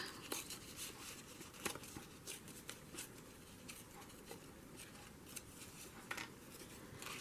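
Scrap paper torn by hand around die-cut tree shapes for an autumn woods journal page, heard as soft continuous crinkling and ripping with small sharp tears scattered throughout, close and quiet.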